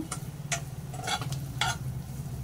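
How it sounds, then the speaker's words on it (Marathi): Boiled potatoes being sautéed in a pan for dum aloo, with a low steady sizzle under a few sharp scraping strokes of a spatula stirring them. "ते मी छान असे परतवून घेते मस्त।"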